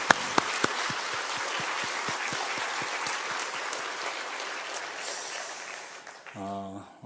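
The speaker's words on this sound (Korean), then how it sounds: "우리 네 교회가 연합하여 예배하게 하신 하나님께 우리 한 번 더 큰 영광의 박수 한번 하겠습니다." A church congregation at a joint worship service applauding together, a dense burst of clapping that fades out toward the end, followed by a brief bit of music.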